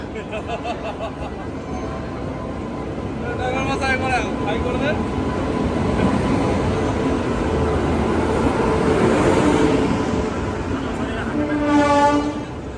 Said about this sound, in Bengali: ঢুকে যাচ্ছে আমাদের ট্রেন